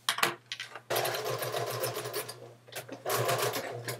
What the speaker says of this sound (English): what we're going to do first is we're going to stitch this seam, and then we're going to stitch this seam